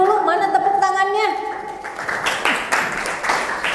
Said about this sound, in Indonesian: Tepuk tangan dulu untuk kalian semua, untuk semuanya